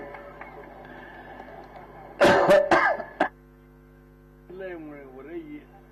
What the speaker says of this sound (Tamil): இன்னைக்கு என்னன்னு தெரியல, ரொம்ப இருமல் வந்துகிட்டே இருக்கு.